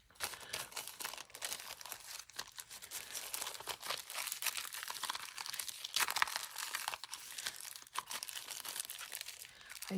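Tape peeling off a cardboard sewing-notion packaging card gives steady close crinkling and tearing, with sharper rips, over about ten seconds.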